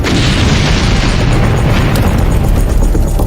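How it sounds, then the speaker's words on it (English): A powerful explosion roars as a dense, continuous rumbling blast that stays loud and broadband throughout, heard alone without talk. "One explosion is so powerful that it sends firemen running for their lives."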